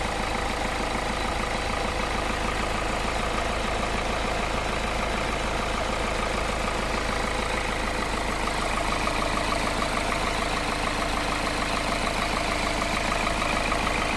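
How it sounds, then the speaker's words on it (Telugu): A 2016 Renault Duster RXL diesel car idles steadily and fairly quietly, a smooth continuous engine hum with no gaps or revving across the whole stretch. "ఇంజిన్ సౌండ్ కూడా మనకి డీజిల్ బండి ఇది. చూడండి చాలా సైలెంట్గా వస్తుంది సౌండ్."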